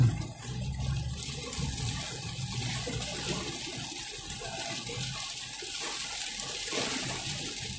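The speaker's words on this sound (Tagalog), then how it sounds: "Lakas ng ulan." Heavy rain pours steadily, a dense wash of splashing water with a low rumble underneath, continuous and fairly close.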